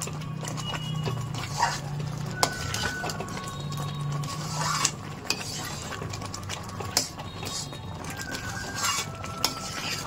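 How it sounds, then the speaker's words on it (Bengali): A spoon stirs grated carrot halwa with 200 grams of milk in a pan, making steady close scraping and soft rhythmic knocks against the pan over a low hum, with no one talking. "এবার আমার খুব করে নাড়তে হবে একটু, কারণ এটাকে পুরো মেলাতে হবে"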